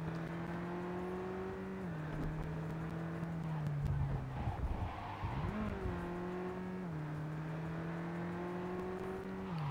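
A hatchback drives in the video game Cyberpunk 2077, with a steady engine drone that shifts pitch as it works through the gears and a rough skid near the middle before it picks up speed again.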